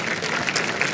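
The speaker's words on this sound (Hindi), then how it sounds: "तालियां बजाओ भाई." A studio audience applauds for javelin thrower Neeraj Chopra in a brief burst of dense, even clapping.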